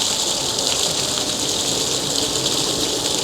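Backlit water fountain splashing steadily on a bright sunny day in Malta, a dense continuous hiss of falling water holding even and fairly loud for the whole stretch, with no voices.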